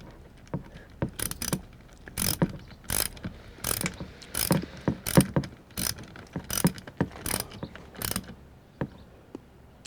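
A fastener being tightened on the gas tank of a BMW K1200R motorcycle: a quick run of sharp, close ratchet clicks in irregular bursts, fairly quiet, with no talking.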